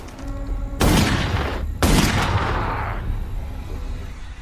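Two loud gunshots ring out about a second apart in a film scene where a man is shot several times, each blast sharp and booming with a long echoing tail.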